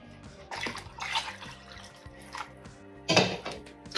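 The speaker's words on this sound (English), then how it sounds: "Let's go ahead and put some hot water in here." Hot water poured into a brewing pot while mixing a Belgian IPA from extract, splashing in a few uneven bursts with one louder surge near the end, close and alone.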